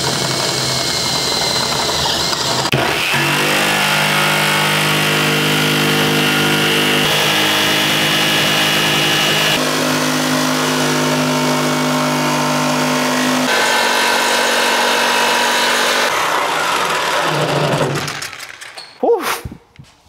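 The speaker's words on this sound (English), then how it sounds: "Let's cut a hole in the fender." A power tool cuts a hole in the fender of a Land Rover Defender 110 during a camper build, grinding loudly and steadily for about eighteen seconds, its pitch shifting in stages, before it stops and a few clattering knocks follow.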